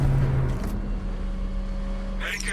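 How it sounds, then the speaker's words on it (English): Batmobile in Batman: Arkham Knight, a steady low engine rumble and hum rolling on at close range with a brighter mechanical whine rising near the end. "I found a way to get the Batmobile into the compound."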